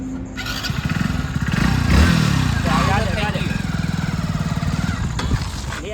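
A new motorcycle's engine restarting and running close by, with a loud rhythmic putter, a revving swell and a squeal over it, while people talk over the engine.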